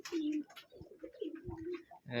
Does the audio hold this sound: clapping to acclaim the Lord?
no